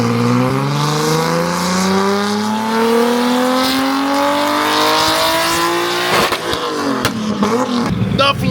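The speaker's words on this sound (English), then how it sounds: "You guys got to hear this idle." A loud Nissan RB engine in an R33 GT-R sedan drones close by during dyno tuning, its pitch slowly rising steadily, then dropping into a rough, pulsing rumble near the end.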